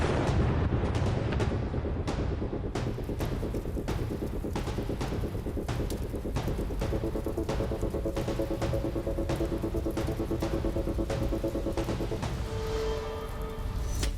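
Javelin missile strikes hitting a Russian tank convoy: a dense barrage of loud, booming blasts and sharp cracks repeating every second or so over a constant roar, with a low, sustained tone rising near the end.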